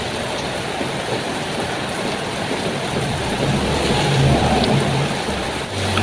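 Steady rain falls outdoors, including onto banana leaves, as a continuous close hiss with a low rumble underneath that swells slightly midway, with no voices.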